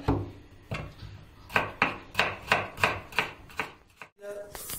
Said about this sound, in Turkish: Şimdi biberlerimizi doğruyoruz.